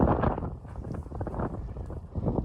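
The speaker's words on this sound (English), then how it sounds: "Sorry about the wind." Wind roars and buffets the microphone on an exposed mountain saddle above tree line on the Klahhane trail in Olympic National Park, a steady, loud low rumble with gusty surges and no voices.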